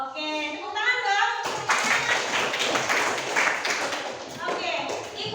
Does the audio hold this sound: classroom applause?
yes